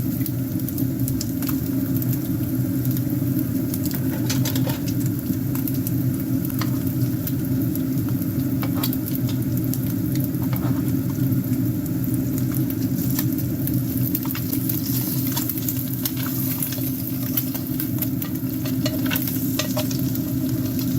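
Pork frying in butter in a pan, a steady close sizzle and crackle with faint scraping and stirring throughout, continuous and fairly loud, with no talking.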